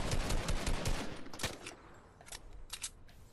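Rapid gunfire in a Fortnite battle, dense bursts of shots crackling up close in the first moments, then thinning into scattered, fainter cracks.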